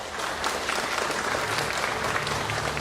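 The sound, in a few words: loud applause from the audience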